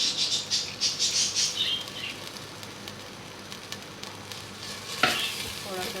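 Soaked lentils and onions sizzle and fry in a pan for methi daal, with loud bursts of frying and stirring early on, then a quieter sizzle and a single sharp utensil clink near the end.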